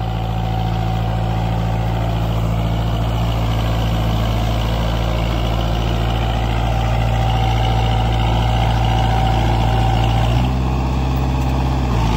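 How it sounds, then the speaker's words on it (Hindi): A Kubota 4x4 tractor in low gear and four-wheel drive, pulling an 11-tine cultivator and 14-disc harrow together, gives a steady, loud diesel drone with a constant low rumble that shifts slightly near the end. "वो ट्रैक्टर भाई तीसरे लो के अंदर है और फोर व्हील ड्राइव में है"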